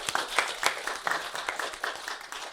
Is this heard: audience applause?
yes